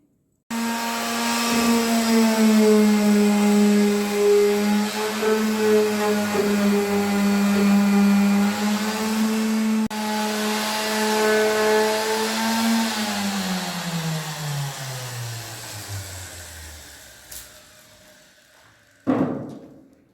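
A power sander on a wooden window drones steadily with a strong hum for a long stretch, its pitch sagging as it winds down, ending with a brief clunk.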